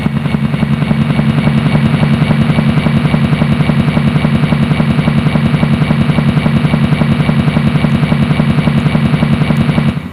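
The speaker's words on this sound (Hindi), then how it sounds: "पंडित जवाहरलाल नेहरू का हेलीकॉप्टर उतर रहा है" A helicopter landing: a loud, steady rotor thumping with a dense mechanical drone that holds unbroken throughout, with no voices.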